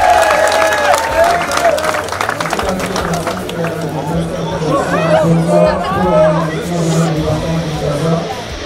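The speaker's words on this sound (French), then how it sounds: "on peut l'applaudir" A crowd at a motocross race in Lubumbashi, Congo, claps and cheers for a rider in steady, dense applause, with chatter and voices mixed throughout.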